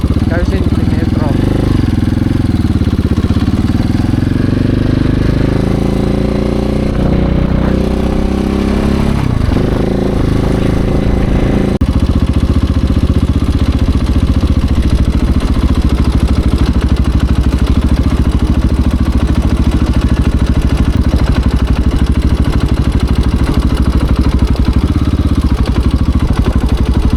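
A KTM 690 Enduro single-cylinder motorcycle engine running loud and steady throughout, with a rev change early on before settling into a constant drone.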